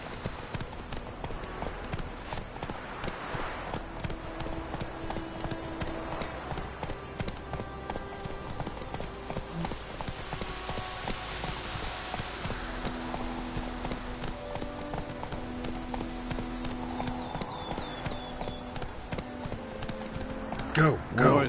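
Hooves of Roach, a horse in The Witcher 3, clip-clop in a steady galloping rhythm throughout, with a game soundtrack and dialogue voices running over them.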